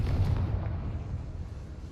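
Confringo blasting spell explosion in a Harry Potter video game, a single heavy low boom with a rumbling tail that fades over about two seconds.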